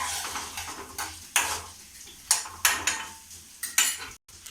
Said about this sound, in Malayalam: നമുക്ക് ഇഞ്ചി ഇടാം. ഒന്നോടെ നൈസായിട്ട് ഇളക്കാം.